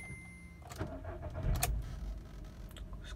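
A 2014 Volkswagen Vento Highline petrol automatic cranks and fires up inside the car, a brief rising whir followed by a steady close engine hum that settles into a smooth idle.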